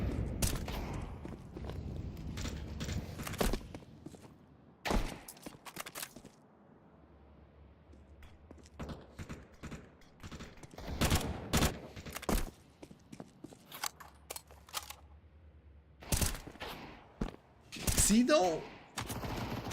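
Counter-Strike pistol fire from Deagle and Tec-9 handguns in a competitive esports match, sharp bursts of shots in several clusters with footsteps between them and a commentator talking over the action.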